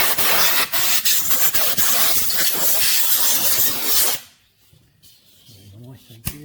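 Compressed air hisses steadily against a Yamaha TTR250 engine casing after gasket scraping, a loud continuous blast with brief pulses that cuts off sharply, leaving quiet room tone and a faint voice.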